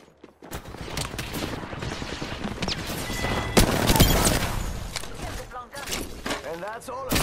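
Gunfire in the Apex Legends battle royale game: rapid automatic bursts and scattered shots crackle continuously, peaking in loud sharp reports midway, mixed with game effects and voices talking over the shooting.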